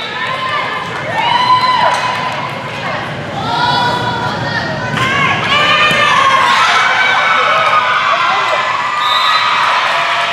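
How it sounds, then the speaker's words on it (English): Spring Valley home crowd cheering and shouting at a high school sectional championship basketball game, a loud, sustained roar of many voices that swells and holds, with shrill shouts on top and occasional thuds. "The noise level's definitely picked up. Spring Valley crowd's making some noise"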